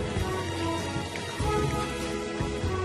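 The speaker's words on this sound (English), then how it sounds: "the last thing you need is rain" Steady rain falling on a holiday outing, a dense continuous patter with low rumbling undertones, fairly loud and constant throughout with no voices.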